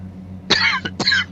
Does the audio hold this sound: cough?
yes